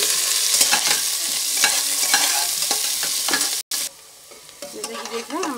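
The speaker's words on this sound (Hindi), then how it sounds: "अब हम इसमें डालेंगे बारीक कटे हुए मिर्च और प्याज, और इसे हम ब्राउन होने तक भूनेंगे" Finely chopped chillies and onion fry in spiced oil for veg pulao, a loud close sizzle with rhythmic spatula scrapes, then a brief cut and a quieter frying stretch.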